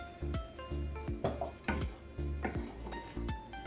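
Cream being poured and stirred into chicken pasta in a pan, with rhythmic clinks and scrapes of a utensil against cookware, fairly quiet and close.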